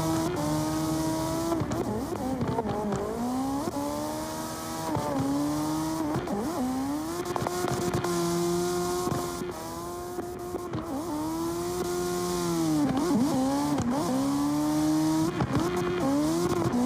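A race car in a qualifying run screams past walls at high speed, its engine note rising and dropping through repeated shifts and revs, with tire squeals and brief skids, loud and close throughout with no talk.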